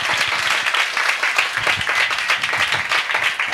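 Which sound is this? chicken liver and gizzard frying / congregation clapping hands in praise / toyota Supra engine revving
congregation clapping hands in praise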